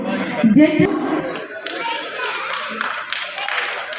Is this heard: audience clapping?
yes